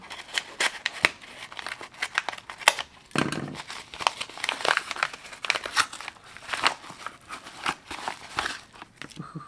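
Plastic packaging of a small item from a model-building kit is being cut and torn open, with repeated sharp crinkles, snips and rustles close by, in bursts with brief pauses.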